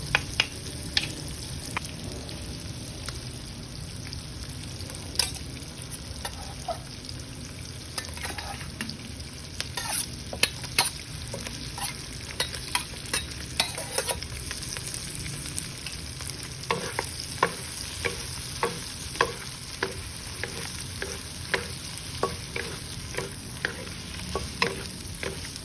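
Shrimp sizzle steadily in a hot pan, a continuous fizzing hiss broken by frequent scraping clicks of stirring, close and clear with no talking.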